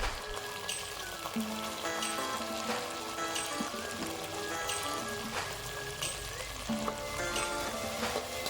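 Curry leaves frying in hot oil for Tamil vatha kuzhambu give a steady, dense sizzle and crackle, with a few sharper pops rising out of the continuous hiss throughout.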